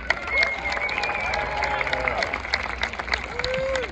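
A live audience applauds and cheers for a Navy veteran performer at a western music show, with steady clapping and crowd noise under sustained musical tones and a few rising whistles.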